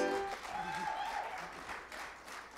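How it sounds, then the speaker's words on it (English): Moderate crowd applause for a band at a fiddle and banjo club show, steady clapping with a fading musical tone at the start and a voice briefly over it. "let's give this band one more round of applause"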